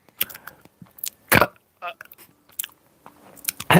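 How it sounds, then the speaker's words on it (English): Gum being chewed close to the microphone, a few wet, irregular smacks and clicks spaced across a few seconds with quiet gaps between them. "Stop chewing the gum."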